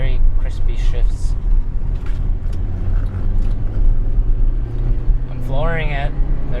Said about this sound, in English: I'm flooring it.